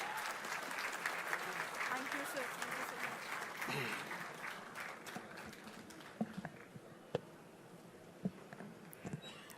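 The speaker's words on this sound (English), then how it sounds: "give a huge round of applause." Applause from a large gathering at a foundation-stone ceremony for a defence engineering plant in Nellore, Andhra Pradesh, dense clapping that thins out midway, leaving a few scattered claps and knocks, with talk underneath.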